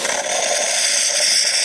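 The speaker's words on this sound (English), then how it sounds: "Nice strong steam." Steady, strong hiss of steam venting from the steam wand of a Gaggia Classic espresso machine after a full tune-up, loud and close, continuous with no talk.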